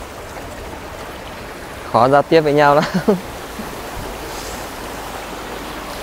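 A mountain stream flows in a steady broadband wash near a remote La Hủ village. It runs throughout, while a person speaks briefly in the middle.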